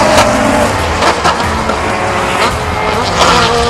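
Race cars pull away at the start of a race at Bushy Park, with loud, overlapping engines revving hard and a surge of roaring engine noise throughout.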